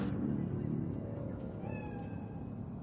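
In Cyberpunk 2077 a cat gives one clear meow over a steady ambient game hum, moderately close and standing out above the background.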